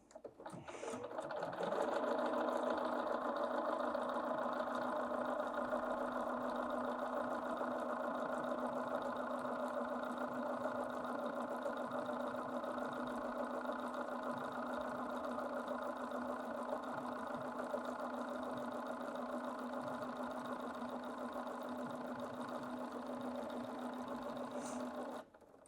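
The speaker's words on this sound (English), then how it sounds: "I'm just going to drop the presser foot and start sewing my letters" A Bernina 770 QE Plus sewing machine stitches lettering in one steady, continuous whirring run, close and even from start to finish, with no talking.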